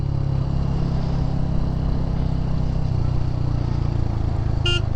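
A motorcycle engine runs steadily throughout a test ride, a continuous low droning hum with slight throttle variation and wind rush, close and fairly loud with no talk.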